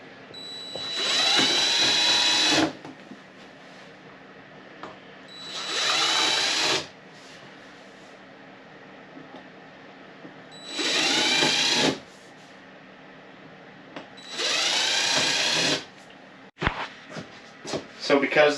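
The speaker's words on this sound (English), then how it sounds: "We're going to drill some pilots." A power drill boring pilot holes through a cutting board for extra RV counter space, four loud sustained bursts of about two seconds each separated by quieter gaps, with brief handling knocks at the end.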